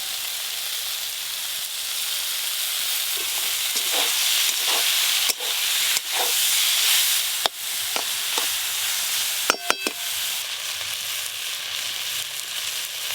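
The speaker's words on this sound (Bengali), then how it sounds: "শাকটা হলো নাকি দেখি। এই যে শাক থেকে জল পুরো শুকনো হয়ে গেছে, আর একটু ভাজা ভাজা করে নিলেই হয়ে যাবে।" Fenugreek greens with eggplant fry in a pan, giving a steady close hiss and sizzle punctuated by a few sharp clacks of a spatula or ladle against the pan, with no talk.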